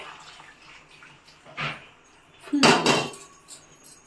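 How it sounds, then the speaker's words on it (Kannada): Hot water splashes into a biryani pot of rice in a home kitchen, with a short gush, then a louder, longer pour and a clink of metal, over a quiet background. "ಇದಕ್ಕೆ ನೀರು ಹಾಕತ್ತಾ ಇದ್ದೀನಿ"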